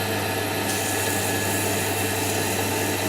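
A woodturning lathe drones at a steady pitch while 400 grit sandpaper is held gently against the spinning wood. A continuous, loud, even hiss and hum carries on throughout with no voices.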